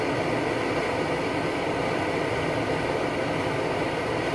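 An MSR XGK EX liquid-fuel camping stove burns with a noise damper fitted, giving a steady, even roar that holds at one level throughout, close and continuous with no other sounds.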